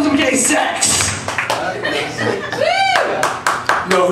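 Comedy club audience clapping on a free Tuesday comedy night, dense hand claps filling the room with scattered chuckles, while a comedian talks over the applause with whoops and vocal bursts.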